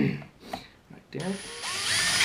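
A handheld power drill bores a hole in a plastic piece. Brief taps and scrapes come first, then the motor spins up into a steady rising whine that holds loud and close until the end.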